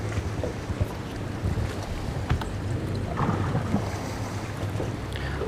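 A rental motorboat drones steadily as it passes close along the bank, amid wind buffeting the microphone and lapping water, a continuous low rumble with no talking.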